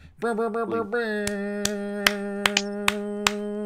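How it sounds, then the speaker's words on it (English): A few slow, evenly spaced sharp claps or snaps ring out over a steady sustained tone, sparse and close, for a podcast co-host. "Everybody clap it up for Dr. Vogue for being the co-host of the Godscast"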